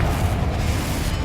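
A Bombarda spell blast in Hogwarts Legacy, a dense low rumbling boom that holds steady and loud for about a second with no voices over it.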